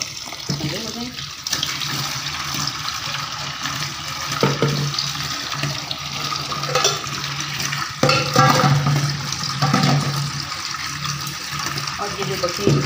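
Cold water runs from a tap over freshly boiled rice in a kitchen to stop it cooking, a steady splashing stream with brief bursts, fairly close and continuous throughout.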